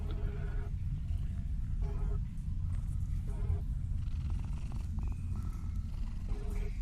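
A cat in the game Mortal Shell purring while being petted, a low, steady rumbling purr repeating in rhythmic pulses throughout, close and continuous.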